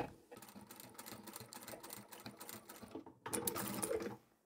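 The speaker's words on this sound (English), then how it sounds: "I'll stitch up to the seam line" A sewing machine stitches duffle bag fabric in a steady, close, rapid run, then stops briefly and restarts with a louder burst before going quiet.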